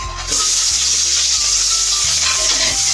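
Garlic and onion hit hot oil in a pan and break into a loud, close, continuous hissing sizzle over faint low tones, sustained for a few seconds.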